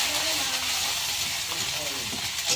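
Garlic paste and ginger paste fry in hot oil over lightly browned onions, giving a loud, steady hiss and sizzle with a few faint clinks, while someone talks over it.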